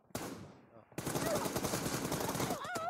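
Sustained rapid automatic fire in a team deathmatch shooter game, close and fairly loud, starting after a short burst and a pause, then rattling continuously to the end with a brief whistling sweep near the close.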